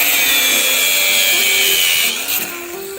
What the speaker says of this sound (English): If you thought I were gonna use anything other than a battery grinder, you were wrong.